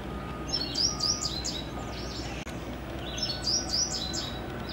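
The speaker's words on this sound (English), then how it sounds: "Hear the birds, everyone?" Songbirds chirp on Mackinac Island, with bright, fast chirp phrases in two bursts over a steady outdoor background hum. No one speaks.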